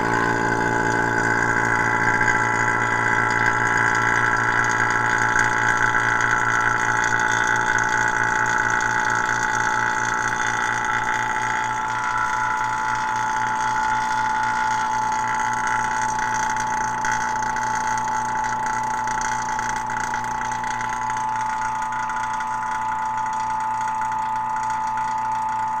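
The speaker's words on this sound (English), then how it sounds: "opening up this valve, and turning on the pump" A pump runs steadily after a valve is opened, pulling a vacuum with a continuous mechanical hum and whine holding level throughout, with no talking.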